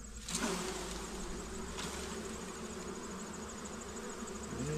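Honeybees buzzing at the hive as frames are shaken off into it, a continuous faint droning hum of many insects with steady texture, close but quiet outdoors.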